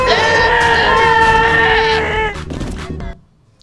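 A goat in the video game Goat Simulator lets out a loud, drawn-out bleat with a wavering, almost screaming tone, followed by a brief rough tail before it cuts to silence.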